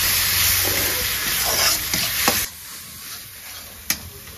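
Chilli powder and spices being stirred together in a pan for a Bengali kohlrabi, soybean and egg curry, with a steady sizzle and scraping of the spoon that drops quieter midway, then a single sharp clink near the end.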